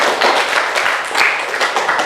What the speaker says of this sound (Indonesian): Iya, tepuk tangan dulu biar semangat.